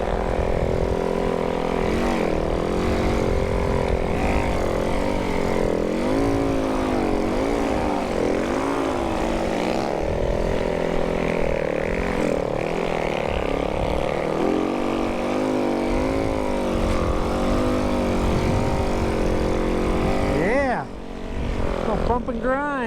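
A snow bike ridden along a trail, its engine buzzing steadily and close with a wavering pitch as the throttle rises and falls, dropping off near the end; a person talks over parts of it.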